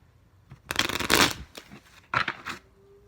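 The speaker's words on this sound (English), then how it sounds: "Okay, let me shuffle." A deck of tarot cards is shuffled by hand in a few quick, close riffling bursts, each a crisp flutter with brief pauses between them in an otherwise quiet room.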